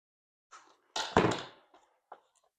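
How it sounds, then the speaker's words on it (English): A filled bag-in-box carton is dropped lightly to settle the bag, giving a soft hollow thunk followed by a couple of faint small knocks in a quiet room. "you can give it a little drop to settle it down"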